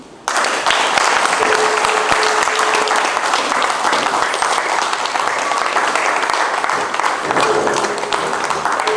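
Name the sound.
audience applause at farming symposium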